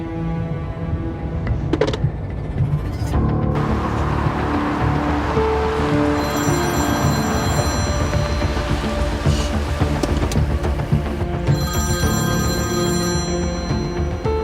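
A telephone rings loudly and steadily through the scene, with bursts of bell tones repeating over a constant rain-like hiss and no voices.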